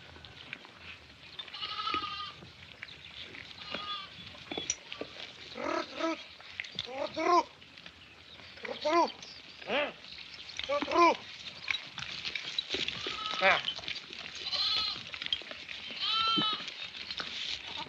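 Sheep bleating in a flock, several distinct bleats scattered through the clip, some close and clear, others overlapping, over a low outdoor background.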